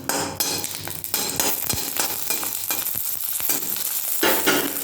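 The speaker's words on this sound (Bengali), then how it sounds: "এবার দুটো শুকনো লঙ্কা আমি ভেজে নেব, অল্প একটু তেল দিয়ে ভেজে নেব।" Two dried red chillies frying in a little oil in a pan, with sizzling and crackling under repeated scraping and stirring strokes close by.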